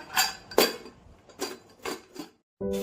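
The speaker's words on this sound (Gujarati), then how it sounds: "તો આપણે આ રીતે મૂકી દઈશું આપણું કુકર." Several sharp metallic clanks and knocks come in quick succession as a pressure cooker is set onto a gas stove, followed by a short pause and then a steady low hum.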